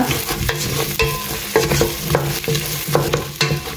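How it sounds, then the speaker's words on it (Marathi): Small potato cubes tumble into a pot of masala and are stirred, a steady rhythm of scraping spoon strokes and soft knocks over a low sizzle, close and fairly loud. "आता हांव हितून घालता पोटेटोज अशे बारीक बारीक अशे कातरलो हांवें क्यूब्स अशे आनी बरो मिक्स दिता"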